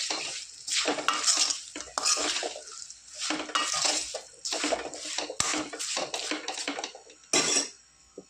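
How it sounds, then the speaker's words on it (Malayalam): Okra pickle with masala is stirred in a pan, with repeated close scraping and clattering strokes of a spoon against metal in uneven bursts over a faint sizzle. "ഇനി നന്നായിട്ട് ഈ വെണ്ടയ്ക്കയും ഈ മസാലയും എല്ലാം കൂടെ പിടിക്കത്തക്ക രീതിയിൽ നമ്മൾ നന്നായിട്ടൊന്ന് ഇളക്കി യോജിപ്പിക്കുക."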